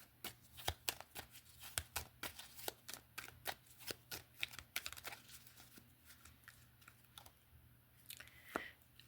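Tarot cards shuffled and pulled from a deck, a steady run of soft papery flicks and slaps close by, with crinkly handling noises between them and a faint low hum underneath.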